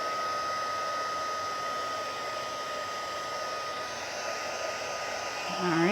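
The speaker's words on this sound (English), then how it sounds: "I'm just going to give it a little shot of heat from the back" A heat tool blows a steady, loud rush of hot air onto the back of a papercraft pie card to flatten warping, a continuous broadband hiss lasting throughout with a rising whine at the very end as it shuts off.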